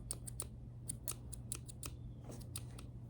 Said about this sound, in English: you're gonna be the scissors with paint on them